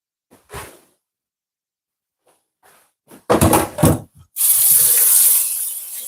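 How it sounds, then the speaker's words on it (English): A spatula is rinsed under a running kitchen tap during cheesecake baking; after a few scattered clatters, a strong close stream of water gushes steadily for the last couple of seconds. "Just giving my spatula a bit of wash"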